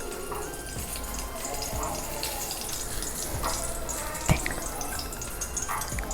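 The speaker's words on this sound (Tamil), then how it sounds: "தேங்காய் எண்ணெய் ஊற்றிருக்கேன்" Coconut oil poured into a hot kadai on the stove for frying, a steady soft hiss with scattered drips and light crackles and one sharp click near the end.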